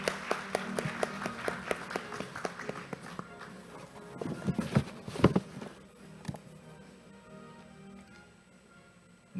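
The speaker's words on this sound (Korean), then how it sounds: "수상하신 곽수원 교수님께 다시 한번 큰 박수 부탁드립니다." Audience applause at an accounting association's international conference opening ceremony for an award recipient: dense, rapid clapping from many hands that swells, then thins into scattered claps and fades to quiet.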